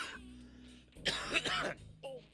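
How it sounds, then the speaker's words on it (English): A close, quiet cough burst of a few rough hacks, with a brief throat sound before and after in an otherwise still room. "my cough thing is also still happening"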